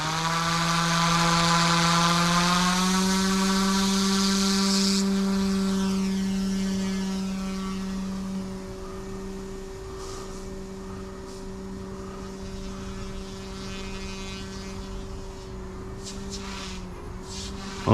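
An OMP M2 EVO RC helicopter flies with a steady, tonal motor whine whose pitch climbs early on and then holds level, loud at first and easing slightly as it continues without talk.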